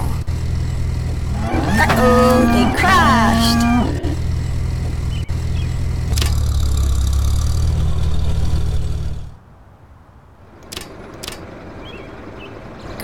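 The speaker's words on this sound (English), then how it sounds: "The bulldozer's helping push the car." A cartoon bulldozer pushes a car, heard as a low, steady engine rumble for several seconds with a few brief squeaky tones on top. It then drops away to near quiet.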